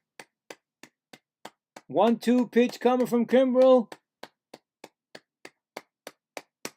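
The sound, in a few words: stadium crowd clapping at Mets game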